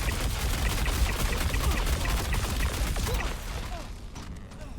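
Rapid sustained automatic fire from the Fresnel Volt LMG in a video game, a dense continuous stream of shots with mechanical clatter, easing off near the end.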